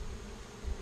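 A brief, steady buzzing of a bee swarm on nine hive frames, a dense low hum with a grainy texture that stays even throughout.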